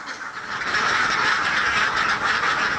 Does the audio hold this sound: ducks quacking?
yes